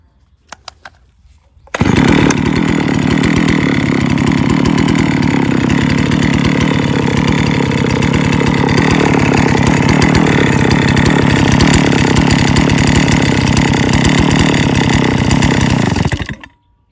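A small engine starts up loud and close with a harsh, buzzy running note. It holds steady for about fourteen seconds after spraying near the carburetor, then suddenly dies into near silence.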